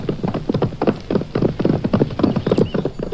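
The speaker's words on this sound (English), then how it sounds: "Brave Prince George climbed on his horse and rode right up to the dragon." Horse hooves clip-clop in a steady trotting rhythm as a sound effect for a children's read-aloud story, close and clear with no voices over them.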